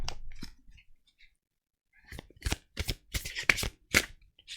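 Oracle cards drawn from a deck for a reading, giving a few faint shuffles and flicks, then a quiet pause followed by a run of sharper, close card snaps and slaps.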